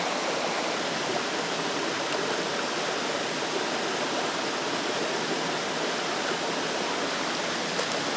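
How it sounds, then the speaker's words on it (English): Steady, loud rushing water from a fast-flowing mountain stream near Owls Head in the White Mountains fills the scene without pause, a constant broadband roar with no voices. "I don't know if you can hear me with the stream behind me."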